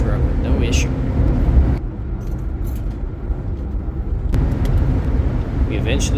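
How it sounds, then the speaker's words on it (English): Jeep Gladiator on 37-inch mud tires cruising on a highway, a steady loud low road roar and tire drone from inside the cab, with a brief dip in the noise midway and a voice talking over it. "eventually getting to a point where we can test the passing power in the Gladiator"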